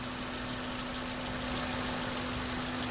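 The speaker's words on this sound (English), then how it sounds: "When I simulate the engine moving, it almost shuts the engine off." Idling 2003 Honda Accord engine with a cracked air intake, running roughly near stall: a steady, close mid-pitched hum with a constant drone tone and faint irregular knocking, no speech.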